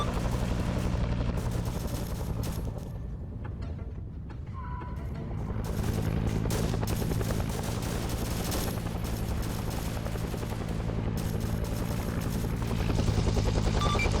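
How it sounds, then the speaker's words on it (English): Helicopter flying low overhead in a Vietnam war video game, a loud continuous thudding rotor drone that dips briefly midway and then builds again, with scattered gunfire crackling underneath. "It also doesn't help that the helicopter keeps flying directly over that group"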